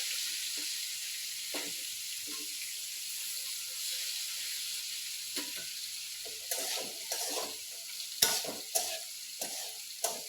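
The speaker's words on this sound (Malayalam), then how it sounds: "കാ മെഴുക്കുവരട്ടി വെക്കുന്നതൊക്കെ ഇങ്ങനെ തന്നെയാട്ടോ" Raw banana mezhukkupuratti being stir-fried in a pan in a home kitchen: a steady soft sizzle with scattered scraping and stirring clatters, growing busier toward the end.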